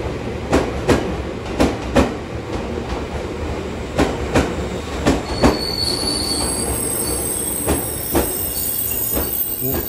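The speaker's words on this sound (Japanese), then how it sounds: "回送列車として発車しました" An out-of-service train on the Chuo Main Line pulls away toward a depot, its wheels clacking in regular rhythmic beats over rail joints with rising high-pitched squeals, loud and close.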